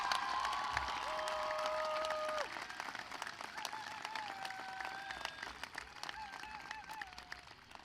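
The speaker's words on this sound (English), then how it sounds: "please, a large round of applause to all of them" Applause at a commencement ceremony for facilities, technology and security staff: a crowd claps steadily at a distance while whistles and shouted cheers cut through, the clapping thinning toward the end.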